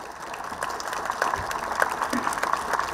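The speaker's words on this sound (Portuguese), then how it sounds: "saudemos o Santíssimo Sacramento com uma grande salva de palmas" A crowd at a Corpus Christi street procession in Horta, Faial, Azores, gives a short burst of applause, a faint, steady patter of clapping with scattered louder claps.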